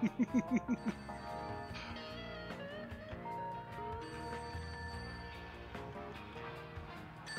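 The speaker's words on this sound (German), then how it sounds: "Telefon." A telephone rings in a quick burst of repeated bell tones at the start, followed by music and other game sounds, in the video game Serial Cleaner.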